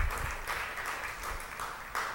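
A congregation claps during a church sermon, dense overlapping applause that rises and falls briefly in a reverberant hall.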